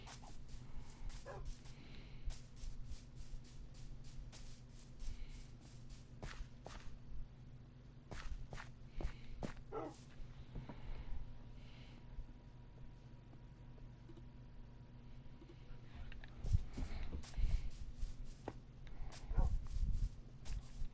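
Tamed wolves in the Minecraft Bedrock video game on PS4 give repeated short barks and yips over a steady low hum, with a few louder bursts near the end and no speech.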